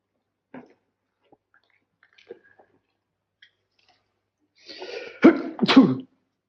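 A single sharp sneeze bursts out after a few soft clicks and quiet rustles in an otherwise silent room.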